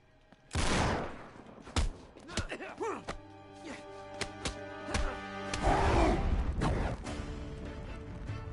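Gunfire in the video game Uncharted 3: Drake's Deception, with a loud burst of shots followed by scattered cracks and impacts over game music and effects.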